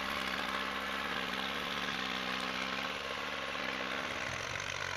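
A tractor engine labouring steadily as it pulls a logging truck out of mud, a continuous droning rumble at even loudness throughout with no speech.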